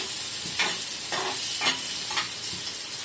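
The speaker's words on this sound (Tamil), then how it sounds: "வெங்காயம் நல்லா கொஞ்சம் வதங்கட்டும்." Onions sizzle steadily as they are sautéed in a pan for onion chutney, with a few scraping stirs of a spatula breaking through the constant frying hiss.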